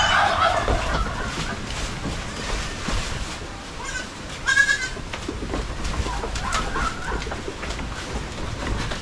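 Young goats and adults bleat repeatedly on a farm, several calls close and overlapping, with chicken clucks and rustling around them.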